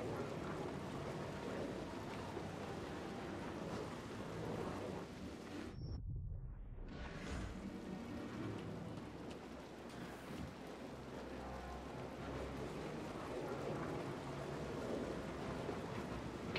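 Wind and stormy weather in the video game Star Wars Jedi Fallen Order, a steady faint rushing gust with a brief dip partway through, heard alone without talk.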